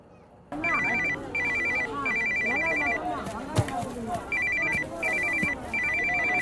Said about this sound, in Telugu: అమ్మ ఫోన్ చేస్తుంటే తీవేంట్రా?